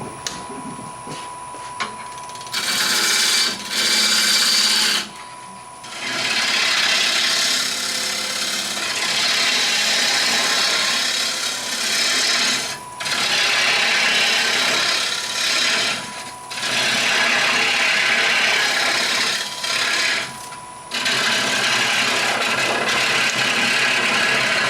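A wood lathe trims a turned bowl, loud rasping and scraping of the tool cutting wood in long sustained passes broken by brief pauses.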